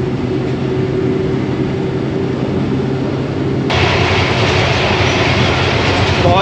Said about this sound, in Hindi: ZCU-20 की घनगरज।